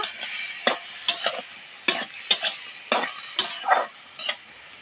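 Spoon stirring cooked rice into a tamarind mixture in a pan makes a series of sharp, close scraping clacks at an irregular rhythm, about a dozen strokes with brief pauses between them.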